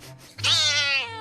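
A cat gives a single clear, drawn-out meow, close and loud, rising then easing off over about a second, with no talk over it.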